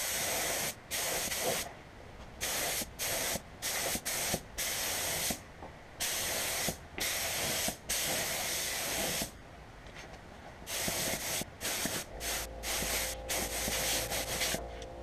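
A spray gun lays finish onto a large maple bowl in bursts of loud, airy hissing, with short pauses between passes and a steadier low hum near the end.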